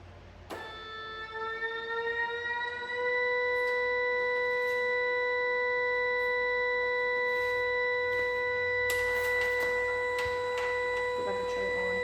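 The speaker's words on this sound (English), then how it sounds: "we're gonna do it on alert and high low, the Wheeland Vortex siren" A restored Whelen Vortex electronic siren holds a steady, loud wailing tone with layered harmonics, sounding close and continuous for the whole stretch.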